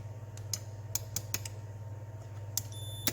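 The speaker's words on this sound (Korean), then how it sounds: "버튼을 누르면 알람이 이렇게 울려요. 그러면은 이제 이 상태에서 패들이 작동했을 때 알람이 울리면은 정상적으로 연결된 거겠죠." A multimeter in continuity alarm mode checking a Thrustmaster T500RS magnetic paddle shifter kit, giving short sharp beeps and clicks as the paddle switch is pressed, several quick pulses close by with no talk.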